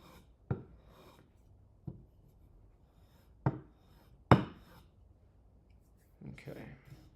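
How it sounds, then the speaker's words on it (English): Chisel working a live edge walnut slab: a handful of sharp, separate woody strikes and scrapes spaced a second or more apart, close and crisp in a quiet workshop, with a voice speaking between them. "We're going to use a little bit bigger of a chisel."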